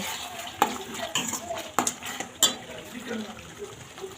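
A spoon scrapes and stirs puliyogare mix in a pan, sweetened with sugar, with a few sharp metal clinks against the rim over a faint sizzle; no one speaks.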